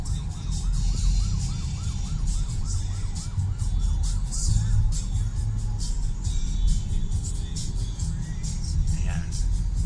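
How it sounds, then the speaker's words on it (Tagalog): An ambulance siren wails past on a busy road in Las Piñas among motorcycles and cars, its rising and falling tone prominent early on over continuous traffic noise, with voices talking throughout. "may ambulance pala"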